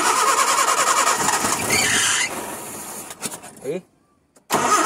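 A car engine with a freshly serviced carburetor cranks and catches with a squeal, runs roughly, cuts to near silence, then fires up again loudly; a voice speaks briefly.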